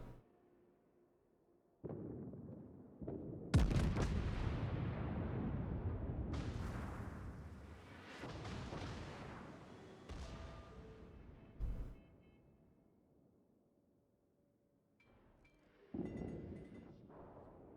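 A World of Warships battleship exchanges broadside fire, with several deep booming salvos rolling out into long rumbling tails, separated by quieter gaps and later followed by softer distant blasts.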